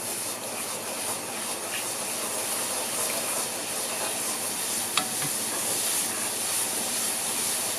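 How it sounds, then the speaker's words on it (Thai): A pot of Thai shumai dipping sauce heating on the stove toward a boil, giving a steady, continuous hiss and faint bubbling at close range with no voices over it. "รอมันเดือดก่อนนะคะเดี๋ยวมันจะค่อยๆเดือดนะ"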